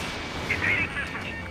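A missile strikes its target in the air-combat game Ace Combat 7, a short burst of explosive impact rising out of steady jet and combat noise, with no one speaking.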